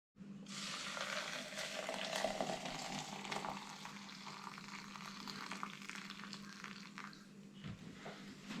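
Boiling water pours over thyme in a steady, hissing rush that gradually settles to a gentler bubbling trickle.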